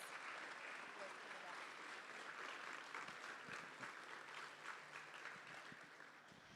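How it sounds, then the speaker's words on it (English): A school audience claps for sixth-grade Pride Award winners, a continuous, fairly dense round of applause with some murmuring voices underneath that eases slightly toward the end. "Please give these Pride Award winners another round of applause."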